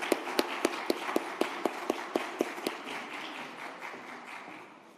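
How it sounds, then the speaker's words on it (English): A conference audience at a summit gives a round of applause, with a steady run of about a dozen sharp, rhythmic claps over a broad crowd wash that fades out over a few seconds. "Round of applause for Exim."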